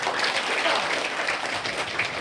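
A group claps steadily in a dense, even burst of applause that lasts throughout.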